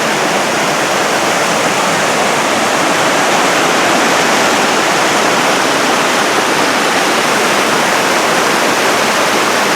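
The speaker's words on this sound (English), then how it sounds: "Our first crossing of Crystal Creek this morning. We've never seen it this" Crystal Creek at Mt Rainier National Park running high and fast, a loud, continuous rushing roar of whitewater that holds steady throughout, close by and with no voices.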